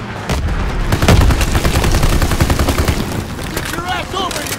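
Heavy gunfire and explosions boom through a Call of Duty WWII battle, dense rapid bursts and blasts filling the scene loudly and continuously, with shouted voices under the din.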